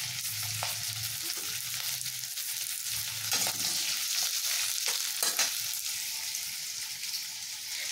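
Onion and capsicum stir-fry in a pan with a steady, close hiss of frying oil, joined by soft scrapes and stirring knocks. No one speaks.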